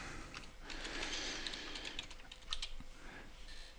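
Steady, fairly quiet clicking of computer keyboard keys as a computer name is entered during Windows 7 setup, continuing evenly for nearly four seconds.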